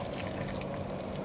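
Porcini mushroom soaking water poured into a spaghetti sauce, a brief steady splashing pour, close and continuous without talk.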